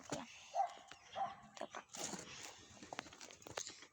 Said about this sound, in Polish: Właśnie moje psy ciągle szczekają.